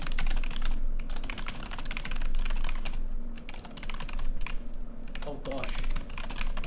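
Computer keyboard typing clicks along rapidly and continuously at close range, with a few short pauses and a brief spoken exclamation in the middle.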